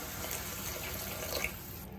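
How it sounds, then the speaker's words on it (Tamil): A steady stream of water pours and splashes into a pot of Tamil-style ground-masala turkey berry and chickpea curry, a continuous rushing hiss lasting the whole moment with no talking. "லைட்டாக தண்ணி ஆட் பண்ணிக்கலாம்."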